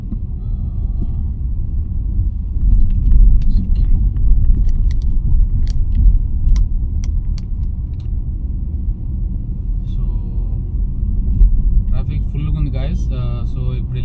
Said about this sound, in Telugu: సో ఒకసారి చూడండి గైజ్, ట్రాఫిక్ ఈజ్ హ్యూజ్